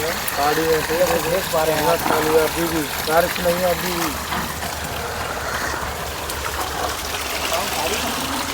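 Water flows out from inside the hill at Chilakalagutta in a steady, near gurgling stream, with a person talking over the first few seconds before the running water continues alone.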